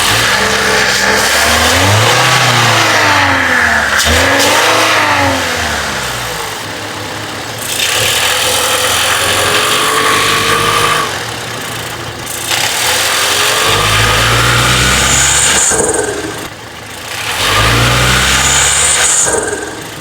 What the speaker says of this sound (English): we're gonna let it warm up a little bit, and then we're gonna go ahead and give it some revs.